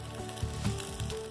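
Ribs sizzle on a grill with a dense, steady crackling hiss, close and constant through the short moment, with a few slightly louder pops.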